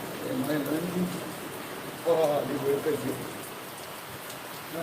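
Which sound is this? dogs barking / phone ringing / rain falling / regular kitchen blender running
rain falling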